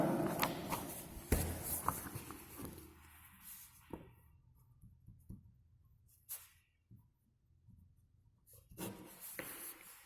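Pen strokes scratch across paper up close as given data is written down, quiet bursts of scribbling separated by near-silent pauses, with occasional faint rustling.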